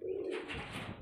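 Domestic pigeons, desi and Punjabi flying breeds, give a brief soft coo, a low murmuring note heard close and quiet within about a second.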